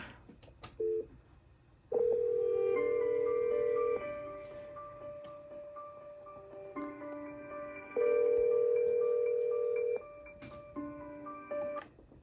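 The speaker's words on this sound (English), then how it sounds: "I am going to have these phones call each other." A FreePBX IP phone on a home system dials another phone, with short keypad tones followed by two long ringback tone bursts separated by silence, fairly quiet and without talk.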